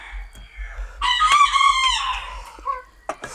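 A rooster crows once, loud and close, as part of a backyard flock of chickens kept at a rural home, with a few short clucks after it and a low hum underneath.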